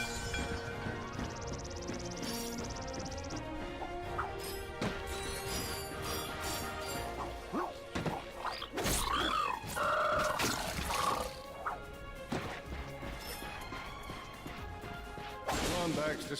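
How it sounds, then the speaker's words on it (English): Crates being smashed in the Ratchet & Clank video game, a string of sharp wooden cracks and thwacks with whooshing swings, heard under game music and effects while someone talks over the gameplay. "Look at him smashing crates."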